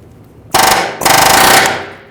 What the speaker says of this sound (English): so I'm just going to use an air chisel.